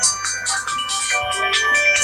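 A phone ringtone plays loudly and close, a bright repeating electronic melody of pulsing tones in quick rhythm, with no talking over it.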